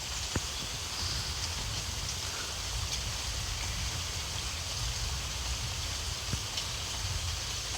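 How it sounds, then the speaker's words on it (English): Rain falls on a warm summer night as a steady, even hiss of drops with a few faint ticks, soft and continuous, with no voices. "The sound of the rain on a warm summer's night,"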